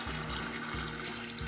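Water pours steadily into a bucket around a bag of clay, a continuous, even splashing rush close by with no voices.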